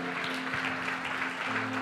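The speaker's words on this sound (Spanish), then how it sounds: "Le podemos dar un aplauso al Señor." Congregation in a church clapping steadily together for about two seconds, a dense, even patter with a sustained low tone underneath.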